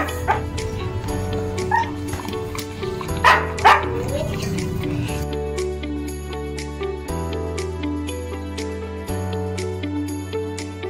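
Dogs whimpering, yipping and giving short barks while their teeth are brushed, scattered over a steady music background, close and fairly quiet.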